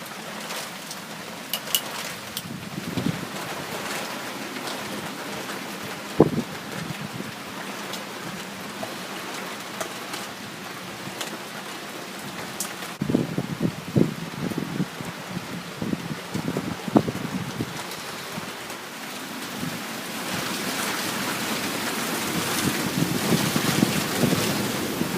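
Tropical storm wind and rain roar at night in a continuous, buffeting wash, with gusts thumping the microphone and the wind swelling louder toward the end.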